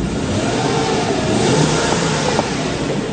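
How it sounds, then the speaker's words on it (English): A Mercedes-Benz C240 engine revs up loudly and holds a high, sustained roar for a few seconds, close to the listener. "I'll give it a bit of a rev for you."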